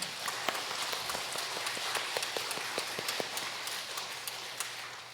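A church congregation claps in praise, a moderate, continuous patter of many hands with a few crisp nearby claps punctuating the steady wash.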